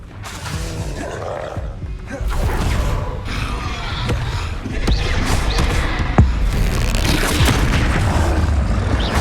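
Fiery Confringo blast spells booming in Hogwarts Legacy on Xbox Series X, a dense run of explosions and roaring combat noise with a sharp crack near the end, loud and continuous.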